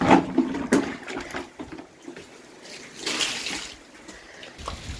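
Water rushing and splashing into a flooded farm drainage trench, irregular gurgling surges that swell and fade, fairly close, with no talk.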